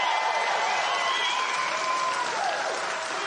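Political rally crowd in Waukesha, Wisconsin applauding steadily, a dense continuous wash of clapping with light cheering mixed in, loud and close.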